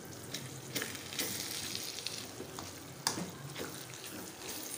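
Fried okra and green chilies being mixed into minced meat in a pan, giving a steady, close sizzle of frying broken by scraping stirs and a few sharper spatula knocks.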